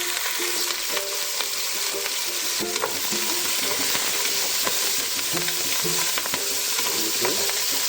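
Jumbo sausage frying in a pan for a Jamaican jerk dish, a constant loud sizzle with scattered spatula taps and stirring scrapes over the whole stretch.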